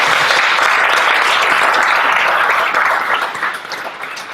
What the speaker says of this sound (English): you're applauding the recovery community when you do that